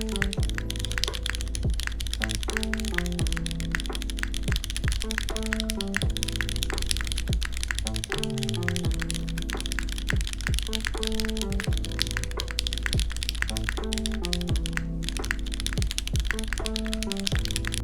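Typing on a Geon F1-88 mechanical keyboard with a V1 aluminum plate: dense, steady key clacks running continuously, close up, layered over tonal background music.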